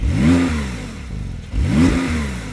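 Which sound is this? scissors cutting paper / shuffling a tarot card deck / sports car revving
sports car revving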